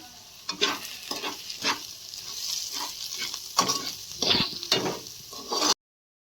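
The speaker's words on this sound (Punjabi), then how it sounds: "ਹੁਣ ਇਹਨਾਂ ਮਸਾਲਿਆਂ ਨੂੰ ਭੁੰਨ ਲਾਂਗੇ ਚੰਗੀ ਤਰ੍ਹਾਂ" Spices roasting in a hot frying pan for Punjabi-style fried cauliflower and potato curry: a spoon scrapes and stirs in repeated strokes over a steady close sizzle, ending abruptly.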